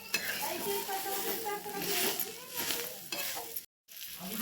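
White sesame seeds drop into a pan of mutton cooking over a wood-fired chulha and sizzle and crackle close by, with stirring. A voice talks faintly underneath, and there is a short break of silence near the end.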